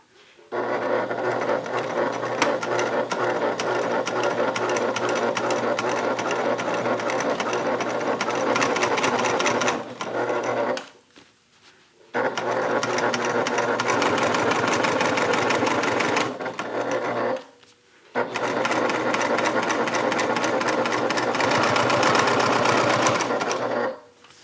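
Sewing machine top stitching along both sides of a bag strip, 1/8 inch from the edge, running in three long steady bursts with brief pauses between, close and loud with no talking.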